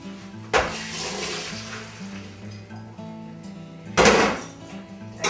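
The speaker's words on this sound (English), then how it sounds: "we're going to strain them off in the colander" Soaked legumes drained and rinsed in a colander, two sudden bursts of rushing, splashing water separated by a quieter stretch of low hum and trickling.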